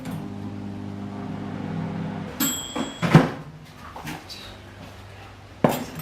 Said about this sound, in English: I'm just going to heat up in the microwave.